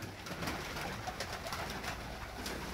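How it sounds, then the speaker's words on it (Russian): Pigeons leaving a pigeon loft coo softly and stir amid a constant, fairly quiet outdoor wash of noise, with faint flutters and scuffs scattered through it. "Вот голуби выходят с голубятни."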